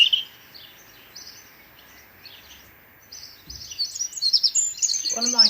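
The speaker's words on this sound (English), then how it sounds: "Should we just have a little listen to some bird song now?" Garden birds singing, with bright chirps and warbling phrases at moderate distance that grow busier and louder toward the end, heard alone in a quiet setting.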